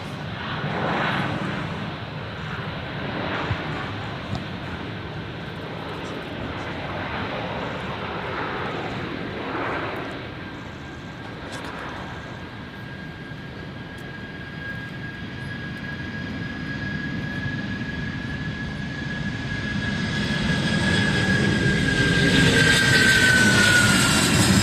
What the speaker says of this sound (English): The 747 taking off from Brisbane Airport on its way to Hong Kong.